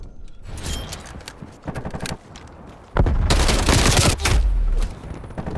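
Call of Duty gameplay with a stun grenade and a frag grenade: rapid gunfire bursts and clattering shots, then a loud, close, booming explosion followed by more rattling fire.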